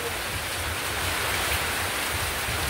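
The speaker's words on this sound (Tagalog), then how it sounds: "lumakas yung alon, kasi may kasamang hangin at ulan" Strong waves with wind and rain during Typhoon Paolo, a steady, dense roar of water and gusting wind with rain hiss, unbroken and fairly loud throughout.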